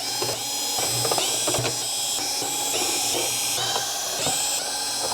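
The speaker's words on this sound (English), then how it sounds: "Next, we'll remove the perimeter screws." Perimeter screws being taken out of the back cover of a Sony XBR-43X800G television with a power driver, a steady whirring ratchet-like buzz with short clicks and pauses between screws, heard close with no voice.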